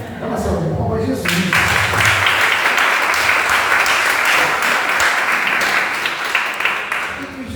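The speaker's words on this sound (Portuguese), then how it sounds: "é uma salva de palmas, Jesus." A church congregation at a Sunday evening service breaks into loud, sustained applause, starting after a moment of voices and then continuing steadily for several seconds.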